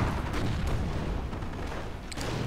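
Anti-tank gun fire in a World War II strategy video game, heavy booming reports over a dense bed of battle noise, with distant rumbling explosions throughout.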